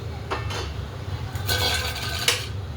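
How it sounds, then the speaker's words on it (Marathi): Metal lid lifted off a pot of sabudana khichdi, a few scraping clinks of metal on metal, a short rattle early and sharper clanks near the end, close by and without talk. "आता आपण झाकण उघडूया"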